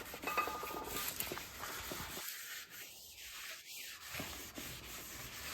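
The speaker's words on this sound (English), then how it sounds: "Get your rotor surface all clean." A rear brake rotor on a 2021 Subaru Ascent is wiped clean, producing a short stretch of close, dry rubbing strokes lasting about two seconds against quiet workshop background.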